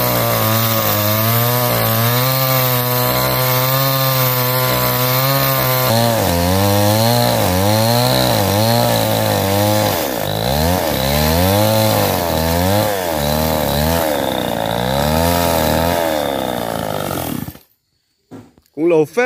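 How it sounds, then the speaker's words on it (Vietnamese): A power saw cuts through timber being sawn to build a house, a loud, continuous snarling engine whose pitch rises and dips with the load for about seventeen seconds before cutting out, followed by brief quiet thumps. "Này có cái công cụ hỗ trợ là cái máy cưa kia nữa."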